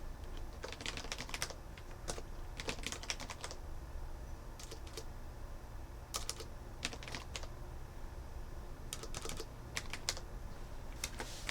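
Scattered bursts of computer keyboard typing, with short clusters of keystrokes separated by pauses, heard close and fairly quiet over a steady low hum.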